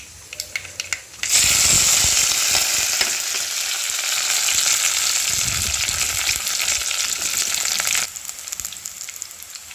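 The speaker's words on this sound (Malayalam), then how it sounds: "ഞാൻ ഒരു ചെറിയ ചുവന്നുള്ളിയും രണ്ട് മൂന്ന് വട്ടലമുളകും കുറച്ച് കുറച്ച് കറിവേപ്പില കൂടി എടുത്തിട്ടുണ്ട് ഇത് കൂടെ അതിൻ്റെ കൂടെ ഇട്ട് കൊടുക്കാം" Shallot, dried chillies and curry leaves drop into hot oil with mustard seeds, bursting into a loud, steady sizzle that holds for several seconds and then cuts off abruptly.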